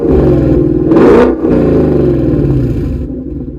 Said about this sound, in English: I went ahead with the Corsa active exhaust, and honestly, it sounds amazing.